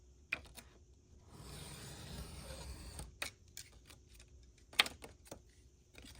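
Card paper being cut down for a jumbo window coin envelope, quiet close clicks and snips with a soft sliding cut in the middle, sparse and faint, no talk.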